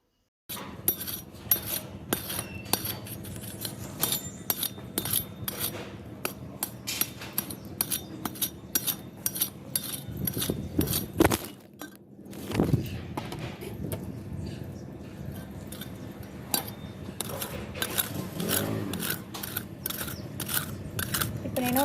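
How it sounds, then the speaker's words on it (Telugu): Small plough-like garden hand tool digging a planting hole in soil, repeated scraping and scratching strokes in a steady rhythm, close up, with a short pause midway. "ఆ నాటడానికి కొంచెం గుంట తవ్వాలి కదా ఆ గుంటనైతే తవ్వుతున్నాను"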